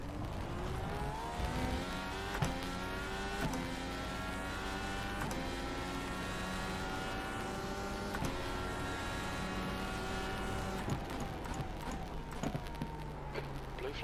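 IndyCar engines scream around Laguna Seca in the racing game iRacing, with rising and falling pitch sweeps through gear shifts. A faint voice talks over the steady engine noise.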